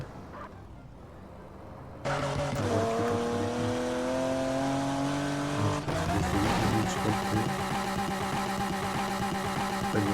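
A car engine in the Grand Mobile video game drones steadily with layered tonal whine, starting quieter then jumping louder at two seconds, with a shift near six seconds as the car breaks down; no talk.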